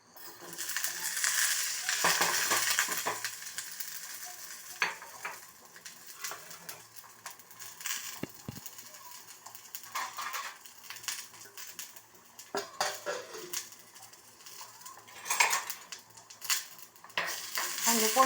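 Garlic and black pepper frying in a little oil in a pan for a fish curry, with a soft continuous sizzle broken by scattered clinks and scrapes of stirring, close and fairly quiet.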